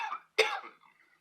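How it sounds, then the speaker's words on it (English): A person with a cold coughs once, sharp and close, after a short breathy throat sound, then trails off into quiet. "Jeez, I'm trying to talk about it, I'm actually coughing."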